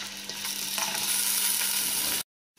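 Onion dropped into hot oil in a cooking pot for a baingan matar aloo salan, giving a loud, dense, continuous sizzle that cuts off abruptly near the end.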